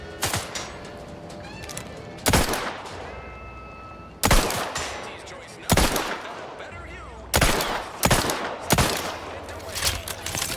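Gunfire in The Outer Worlds 2: several loud, sharp shots in separate bursts about every couple of seconds, each decaying over a busy game background with faint tones.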